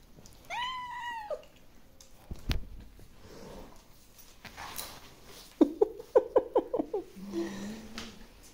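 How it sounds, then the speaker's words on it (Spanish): A cat meows, with a drawn-out wavering call near the start and later a quick burst of short, rapid meows, all fairly close amid quiet background rustling. "¿Qué te hace ese gato?"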